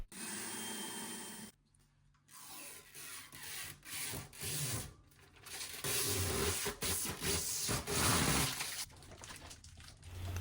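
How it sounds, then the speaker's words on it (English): A drill bores mounting holes through an acrylic mirror for a drinks cabinet, a faint grinding hum that comes and goes in uneven bursts with brief pauses. "now the positions where the holes need to go to mount it in place can be drilled"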